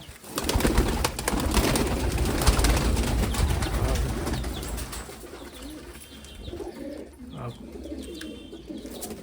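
Domestic pigeons coo in a loft kept in winter, soft repeated throaty calls layered close together, with someone talking over them for much of the stretch.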